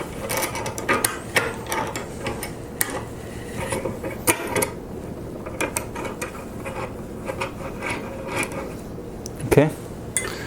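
Screws being inserted and tightened on a Tosa Tool modular angle plate: a run of close metallic clicks, ratcheting and light clanks scattered across the clip, with a louder clatter near the end.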